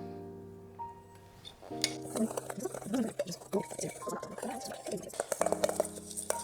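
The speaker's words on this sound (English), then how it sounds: "Then I'm going to take this and get to stirring" Food coloring is stirred into shredded coconut in a bowl, giving irregular scraping and light clinking of a utensil against the dish, fairly close, with a steady low hum of background music throughout.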